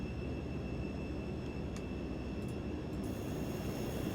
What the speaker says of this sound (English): Very loud. British turboprops from this era are very screamy.